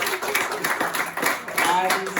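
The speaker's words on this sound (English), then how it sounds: "a huge round of applause for everyone who's graduating or has graduated" A student audience at a stand-up comedy night claps for graduates, scattered applause mixed with cheering voices and chatter, moderately loud and uneven across the moment.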